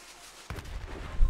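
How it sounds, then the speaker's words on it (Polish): A sudden in-game explosion bursts after a quiet moment and rolls into a rumbling, crackling tail with a heavier thump near the end. "Dobra, to samo wybuchnie."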